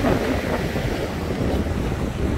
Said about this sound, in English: So it's still really windy at the beach.